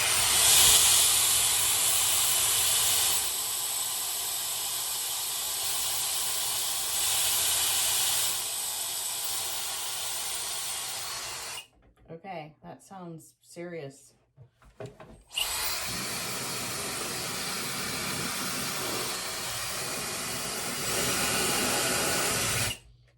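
A Shark hair dryer on its cool setting blows with a steady, loud rushing hiss, cuts off briefly while someone talks, then roars back on.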